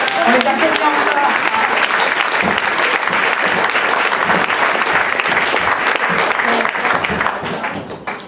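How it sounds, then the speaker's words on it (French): An audience at a Carbur'en Scène 2014 show applauds loudly and continuously, a dense wash of clapping that holds steady before tapering off at the end, with some voices underneath. "On les applaudit encore."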